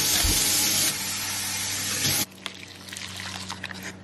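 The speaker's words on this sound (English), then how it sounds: "you fill up the water using that line" Water pours loudly and steadily into a food packet, filled up to a marked line, then stops abruptly, leaving faint handling sounds and quiet clinks.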